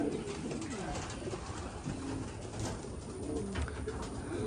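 White grizzle racing pigeons at a family loft in Corpus Christi coo softly under a loud, noisy outdoor wash, their calls low and steady through the whole stretch.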